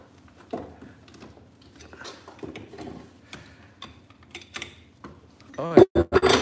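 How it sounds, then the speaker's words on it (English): Metal parts click and scrape faintly as a stator is pried off a 1984 Honda CB750SC engine, with small irregular ticks building to a few louder clunks near the end, under quiet mumbled talk. "Maybe it needs a little more prying."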